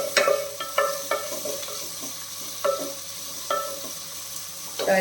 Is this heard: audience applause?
no